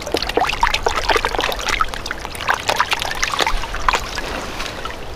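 Water sloshes and trickles in a gold pan during panning, a steady run of close, wet splashes and pours with no talk.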